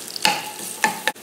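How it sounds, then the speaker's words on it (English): Garlic cooks in olive oil with a constant soft sizzle, broken by three sharp scraping stirs of a utensil across the pan, all close by and without talk. "start with olive oil. Put the garlic down. Cook the garlic."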